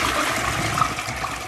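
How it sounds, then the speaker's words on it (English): A household toilet flushes after being cleared of a blockage with a plunger, a steady loud rush of water filling the whole moment with no talk. "let's flush this toilet now and let's see what if it's done it"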